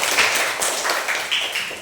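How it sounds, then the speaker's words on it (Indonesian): Applause breaks out in a classroom during a teaching session: a dense, steady patter of many hands clapping close by, lasting about two seconds. "Tepuk tangan."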